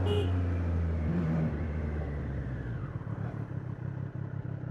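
A superbike rides in second gear with a steady, close engine drone and rumble that turns rougher and more pulsing under wind noise partway through.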